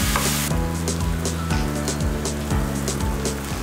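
Steady loud sizzling of spices and sauces, including soy sauce, frying in a pan, with regular scraping stir strokes repeating roughly twice a second.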